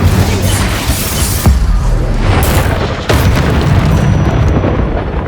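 Confringo and Incendio spell blasts in Hogwarts Legacy combat, heavy booming bursts layered over a loud, dense roar, with a few sharp impacts standing out.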